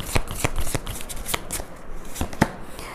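Tarot cards being shuffled by hand, a quick run of crisp riffling flicks and snaps at an uneven rhythm, close and fairly loud with no talking.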